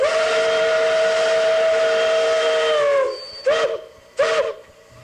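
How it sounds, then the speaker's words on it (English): The whistle of PRR 1361, a Pennsylvania Railroad steam locomotive, gives one long, loud, steady blast, then two short toots that trail off amid hissing steam. "And soon had a blast from her whistle, calling for a cheer from the Altoona Railroad Memorial members."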